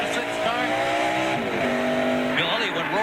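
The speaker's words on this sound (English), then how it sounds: "Went roaring right down pit road along with Jeff Burton." NASCAR stock cars roaring down pit road during a race at New Hampshire, loud engine whine with shifting pitch as cars pass close by, under a broadcast commentator's voice.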